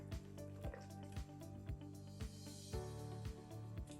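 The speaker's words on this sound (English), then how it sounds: "I'll just give it a quick stir and we will close it" Egusi soup with spinach is stirred in a pot, giving soft, wet squelches and drips that repeat in a steady rhythm about twice a second, close by and fairly quiet.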